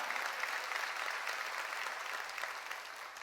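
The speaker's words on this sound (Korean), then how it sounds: "박수로 하나님께." A church congregation at a summer mountain revival meeting breaks into steady, dense clapping that fills the whole moment at an even, moderate level, with no voices rising above it.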